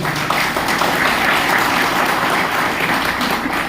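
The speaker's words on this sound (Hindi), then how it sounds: "तो एक जोरदार तालियां होनी चाहिए।" Steady, loud applause from a crowd, continuous dense clapping that fills the whole moment without pause.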